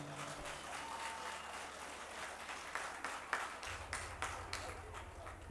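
Audience applause at an outdoor village-festival concert in Cejkov, a steady moderate clatter of many hands that swells slightly louder toward the end, with a few sharper individual claps standing out.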